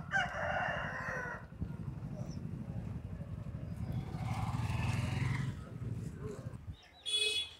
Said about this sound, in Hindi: सेलम असील में मुर्गा है